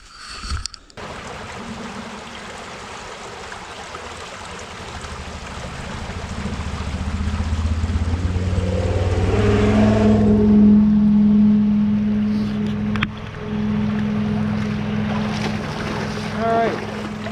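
Creek water runs steadily beside a trapping line, a broad continuous wash that fills the background; someone talks over it for much of the time.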